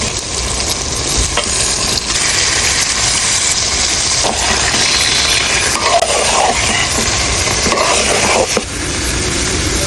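Meat tipped into a hot pan of frying spices sizzles loudly and continuously, with stirring and scraping close by and no speech over it.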